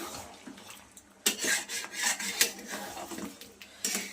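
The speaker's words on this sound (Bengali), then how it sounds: "তো বন্ধুরা দেখতে থাকুন, আমি সুন্দর করে কষিয়ে নেব" Mutton chaap being sautéed and stirred in a pan, with intermittent scraping and rasping of a utensil against metal in short irregular strokes, close by and moderately quiet.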